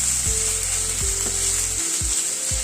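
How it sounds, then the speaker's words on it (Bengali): Ginger and green chili paste sizzles steadily in a pan while being stirred, with a few soft utensil knocks against the pan over the frying hiss. "আদার কাঁচা লঙ্কাটাকে দিয়ে হালকা একটু নাড়াচাড়া করে নিচ্ছি"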